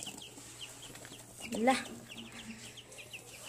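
Backyard chickens cluck softly in a small home coop in Nepal, with one louder squawk rising in the middle; a brief spoken syllable is heard among the birds.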